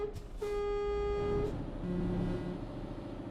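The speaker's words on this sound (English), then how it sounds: "Honk honk." A truck horn in Euro Truck Simulator 2 blares in two short honks, the second held about a second, loud over the low steady rumble of the engine, with no talk.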